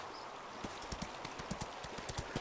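Horse hooves clip-clop at a steady trotting rhythm while riding through the Ostwind video game, the evenly spaced thuds clear and close over a constant ambient hiss.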